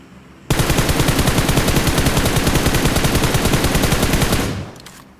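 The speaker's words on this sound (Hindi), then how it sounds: "लेकिन मैंने मूवमेंट देके फायर किया" Rapid automatic gunfire in the mobile battle royale game BGMI: a loud, sustained burst of evenly spaced shots that starts abruptly and runs for about four seconds before fading, with no talking.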